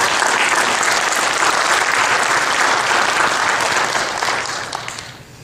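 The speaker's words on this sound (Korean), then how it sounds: "우리 하나님께 감사의 박수 한번 올려드리겠습니다" A church congregation claps in thanks during an anniversary worship service, dense and sustained applause from a full room that holds steady before tapering off near the end.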